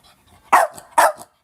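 Cleo, a dog wearing a yellow dress, lets out two sharp, loud barks about half a second apart, each followed by a softer huff, close by in a quiet indoor room.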